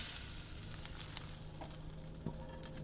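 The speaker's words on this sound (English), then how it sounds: "I'm going to add the rest of the pork to the pan" Pork goes into a hot pan with a constant sizzle, small crackles and pops scattered through it, and a light scrape or stir near the end. Close and moderately loud, with no talk.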